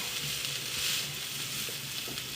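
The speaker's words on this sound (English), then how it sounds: "just keep sauteing these. And I'll just keep adding in my kale as they start to wilt down" Kale sautés in a hot pan with a steady, even sizzle and hiss throughout, moderately quiet and uninterrupted.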